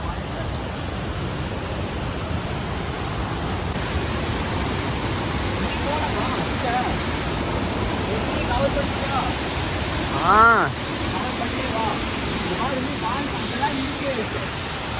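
Rushing water from the Atla waterfall in Kerala, heard as a steady broadband roar that continues for the whole stretch, with people's voices faintly mixed in underneath.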